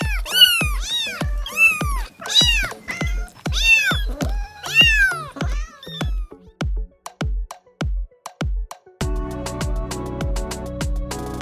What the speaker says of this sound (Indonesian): Ini adalah kucing.